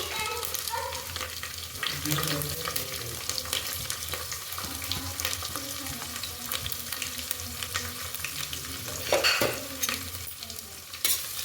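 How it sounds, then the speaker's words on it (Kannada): Curry leaves and onion fry in well-heated oil for a green chicken curry, a continuous moderate sizzle with occasional stirring scrapes and a brief louder burst near the end, without speech. "ಎಣ್ಣೆ ಚೆನ್ನಾಗಿ ಕಾದಿದೆ ಇವಾಗ ಕರ್ಬೇವಿನ ಸೊಪ್ಪು ತುಂಬ ಚೆನ್ನಾಗಿರುತ್ತೆ ಜಾಸ್ತಿ ಸ್ವಲ್ಪ ಹಾಕ್ಕೊಳ್ಳಿ ಈರುಳ್ಳಿ ಹಾಕ್ಕೊತಾ ಇದ್ದೀನಿ"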